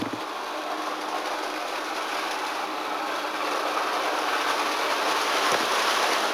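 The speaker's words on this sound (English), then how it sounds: "Watch the train." Toy train running during home Christmas decorating, a steady rattling, clattering roll that holds evenly and gradually grows slightly louder over several seconds, with no voices heard.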